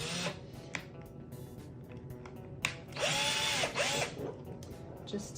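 A power drill bores a hole through a plastic insert for a grazing muzzle, whining in short bursts with a louder sustained run near the middle, close and clear.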